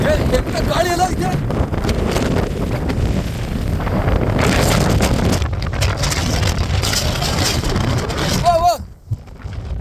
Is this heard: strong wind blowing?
yes